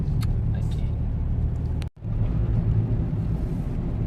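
Steady, loud rumble of cars and other vehicles climbing a winding hill road with hairpin bends toward a tourist hill station, continuous engine and road noise with a brief sharp dropout in the middle.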